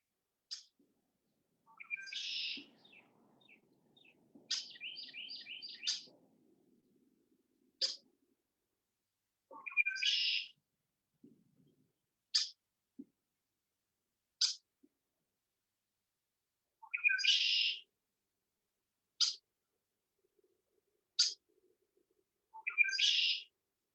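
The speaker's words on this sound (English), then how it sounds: "Birds are all out chirping this morning." Morning birds chirping outdoors, short bright calls and little trills repeating at irregular intervals, faint and fairly distant with quiet stretches between them.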